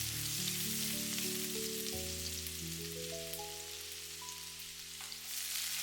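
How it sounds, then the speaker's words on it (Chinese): Minced ginger and garlic frying in a spoonful of lard in a hot wok, a steady close sizzle running throughout beneath a layer of tonal background music. "起鍋加入1大勺的豬油，接下來加入切好的薑蒜末"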